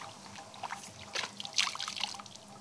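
Water trickling and dripping in soft, irregular splashes while cobra venom is washed off a hat in monsoon season, faint and close with no voices.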